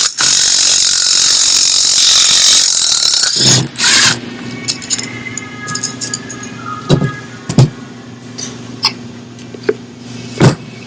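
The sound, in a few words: wrench turning nut on Toyota RAV4 rear shock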